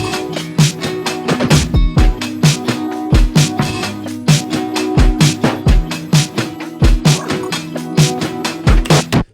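A produced music track of punchy drum hits layered over sustained synth pads with guitar, playing loud and alone in a steady, driving rhythm.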